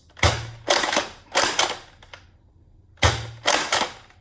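An X-Shot Zuru Turbo Advanced toy dart blaster is cycled and fired repeatedly, each shot a loud close snap of spring and plastic followed by a ratcheting reload clack, in two quick bursts with a pause between.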